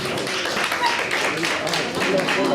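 Delegates at a youth debate event give a round of applause for a speaker, a dense wash of clapping mixed with crowd murmur and possible voices, steady and moderately loud.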